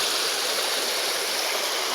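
A waterfall stream rushes in a steady, dense, close hiss of flowing water with no pauses.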